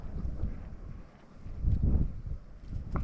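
Strong gusts of wind buffet the microphone at a campsite, a rumbling, uneven roar that swells and eases.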